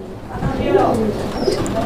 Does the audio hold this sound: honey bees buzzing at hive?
no